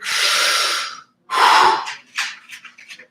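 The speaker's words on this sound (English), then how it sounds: "And again, now breathing in" A person doing a slow breathing exercise draws a long, close, audible breath in, then another, followed by a few shorter, shakier breaths and sniffs.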